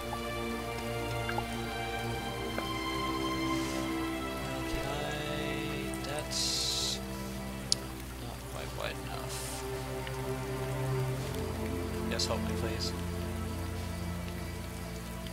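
Rain in the video game Starbound during a hail storm, a constant pattering downpour with occasional brighter splashes and drips, heard beneath game music and people talking.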